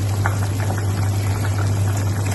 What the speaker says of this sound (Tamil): கொதிக்கட்டும் குழம்பு